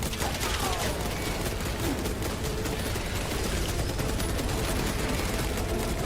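Rapid automatic gunfire from a video game shooter, a dense continuous fusillade of shots filling the whole stretch at steady loudness, with no speech over it.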